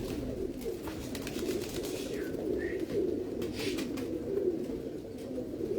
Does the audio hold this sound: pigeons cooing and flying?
yes